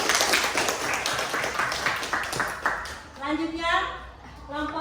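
Classroom applause for a student group, a burst of rapid, fairly close clapping that fades after about three seconds as a voice starts speaking.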